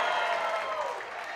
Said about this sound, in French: Et voilà, l'ovation